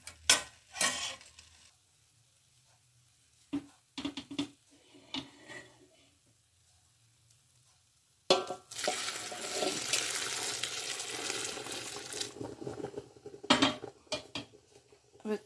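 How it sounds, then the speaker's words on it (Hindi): A spoon scrapes and stirs chana dal halwa in a pan, with scattered clinks at first, then a sustained sizzling roast with repeated stirring strokes, close up. "अब अच्छी तरह से चलाना है, चलाते हुए थोड़ा भूनना है।"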